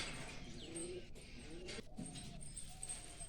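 Soft, low pigeon cooing repeats in gentle rolling phrases, faint against a quiet ambient background with no speech.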